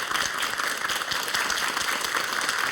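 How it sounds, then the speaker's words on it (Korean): Studio audience on a Korean morning talk show gives a big round of applause, an even, continuous patter of many hands at moderate level from start to finish. "다시 한번 큰 박수로 감사"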